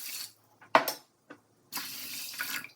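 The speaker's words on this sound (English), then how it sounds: "Take 1 bowl rice and wash with water to remove starch." Water splashing and running from a tap over a bowl of rice being washed in a kitchen sink, with short clattering bursts and a longer rush of water near the end.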